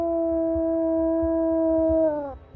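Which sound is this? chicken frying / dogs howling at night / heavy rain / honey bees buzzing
dogs howling at night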